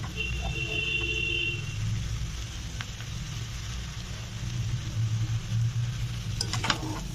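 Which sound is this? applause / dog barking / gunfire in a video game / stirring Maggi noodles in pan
stirring Maggi noodles in pan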